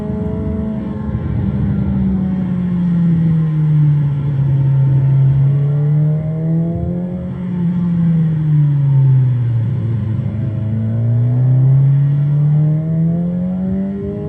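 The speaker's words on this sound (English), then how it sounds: "You can also hear my throttle there." Motorcycle engine on the rider's throttle through a road corner, a steady close-up drone that dips and rises in pitch as the throttle is eased off and rolled back on, with no talk.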